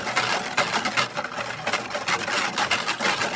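A whisk beats a sugar mixture in a bowl for pizza dough, giving quick, rhythmic scraping and clicking strokes at a steady moderate level with no voices.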